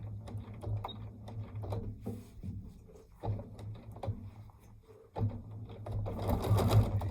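A domestic sewing machine back stitching while machine quilting, a close, rapid mechanical whirr that runs in short bursts with brief pauses, growing louder and busier toward the end.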